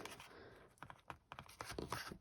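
Cardstock being folded in half for a card base, with a few quick crisp creasing and rubbing scratches, close and faint, in a quiet room.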